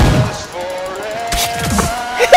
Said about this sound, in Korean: 어 누가 총 쏜다.